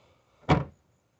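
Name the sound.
Renault Logan trunk lid opening with electric release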